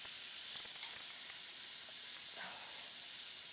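Chicken frying in hot oil gives a steady, faint, hissing sizzle that runs unbroken through the whole stretch, with a few slightly louder crackles along the way.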